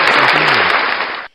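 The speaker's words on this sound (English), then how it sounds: "That was supposed to be the round of applause." Canned round-of-applause sound effect played during a live news stream, a dense burst of clapping for just over a second with a faint voice underneath, cutting off abruptly.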